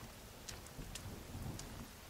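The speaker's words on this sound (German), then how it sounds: "Es regnet durch das Dach hier durch." Steady video game rain from The Forest hisses throughout, coming through a treehouse roof, with a few brighter drip splashes and a low rumbling underneath, no voices.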